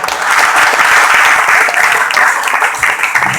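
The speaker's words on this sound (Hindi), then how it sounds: "एक बार जोरदार ताली आप लोगों की" A crowd at a motivational wellness meeting breaks into loud, sustained applause, dense clapping that holds steady before tapering slightly at the end.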